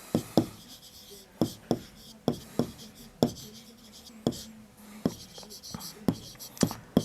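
A pen writes on paper in quick, sharp scratching strokes, some single and some in short bursts, close and distinct, with faint whispered talk in between.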